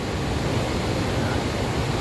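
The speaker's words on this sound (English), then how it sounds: "It's amazing flow of water." Housatonic Falls on the Appalachian Trail gives a steady, loud, dense roar of heavily flowing water throwing off mist. The rushing wash is close and continuous, with no voices.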